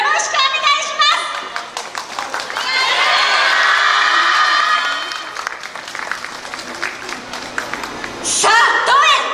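A large crowd cheers, shouts and applauds at an outdoor yosakoi dance festival in Kanmon, with a loud sustained roar in the middle and bursts of clapping and yelling at the start and near the end.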